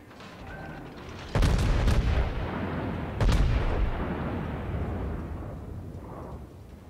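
Naval guns firing in the video game World of Warships: two heavy, booming salvos a couple of seconds apart that roll off into a long, rumbling decay over continuous battle noise.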